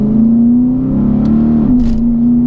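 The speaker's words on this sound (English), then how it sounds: "As you can see, they went from second into third, span the wheels straight away." A 460 bhp Lexus IS F with an 8-speed gearbox revs loudly and steadily from close by, then its engine note dips briefly and settles as it shifts up a gear under hard acceleration.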